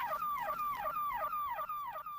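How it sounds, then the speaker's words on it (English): A car alarm going off in a thriller film, its warbling electronic tone sweeping up and down in a fast repeating cycle, loud and continuous with no talk over it. "There's a great gag here where the car alarm is going off just to heighten the tension."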